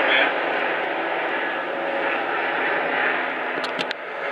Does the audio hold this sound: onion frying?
no